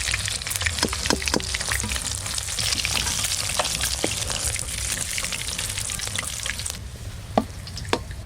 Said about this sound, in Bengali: এই মাছগুলো ভাজা করছি, তেল কিন্তু খুব একটা টানেনি।